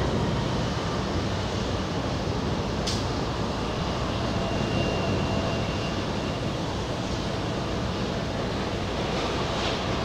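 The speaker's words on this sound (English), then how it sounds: "Triple 7 American Airlines touching down on a 4 right." An American Airlines Boeing 777 touching down on runway 4 right at JFK, a steady broadband roar of jet engines heard at a distance throughout, with no talking.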